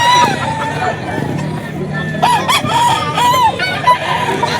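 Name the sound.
stag (young gamecock) crowing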